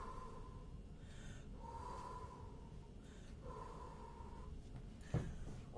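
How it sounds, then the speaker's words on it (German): Slow, deep breaths drawn in and let out during a Swiss stage play, each swelling and fading in a steady rhythm over a low murmur of room noise, with a sharp sound near the end. "Einfach schön tief schnaufen."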